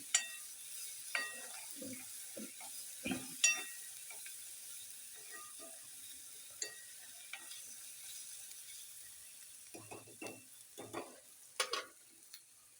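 Coriander leaves frying in hot oil for a spicy pea curry, heard as a faint steady sizzle with scattered stirring scrapes and clinks, louder clatter near the start and end, no voices.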